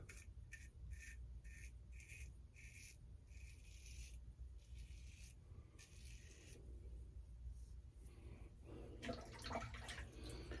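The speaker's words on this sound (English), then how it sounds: "I'm sure you can hear it's kind of loud, a little bit of blade noise in there." A Van der Hagen twist-to-open safety razor shaves wet, soaped skin in a rhythmic series of short, scratchy blade strokes, fairly close, with a rougher rubbing passage near the end and no speech.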